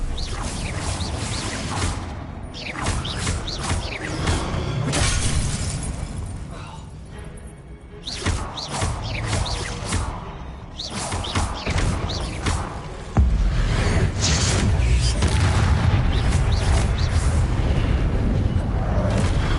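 Blasting-spell explosions in Hogwarts Legacy, with repeated loud booms and whooshing bursts that cluster in quick succession and swell into a sustained heavy roar near the end. Voices are heard in the clip.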